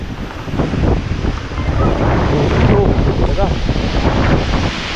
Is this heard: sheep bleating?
no